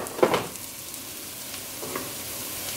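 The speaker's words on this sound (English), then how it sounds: "I have my onions sauteing in here, and some of it got a little brown" Onions, some slightly browned, sauté in a pan with a brief utensil clatter at the start, then a soft, steady sizzle carries on alone.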